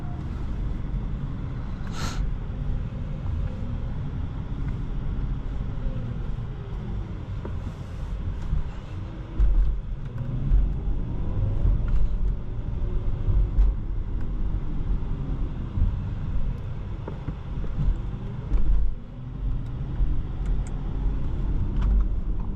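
A 2022 Audi e-tron GT Premium Plus electric car cruising, a steady low road rumble with wind noise and faint rising and falling motor whine, continuous and close from inside the cabin.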